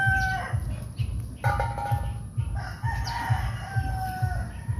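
A rooster crows repeatedly, its harmonic calls rising and falling over a steady, rhythmic low thumping in the background, with no talk.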